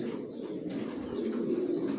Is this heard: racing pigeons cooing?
yes